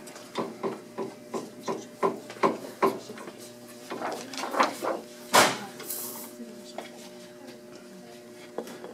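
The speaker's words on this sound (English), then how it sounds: "We'll loosen up this plate clamp on the tail and then mount that in an old plate." A plate clamp on the tail of a Multi 1450 printing press being loosened, heard as about ten evenly spaced, close ratchet-like clicks, then scraping, a louder metallic clunk and scattered handling noises.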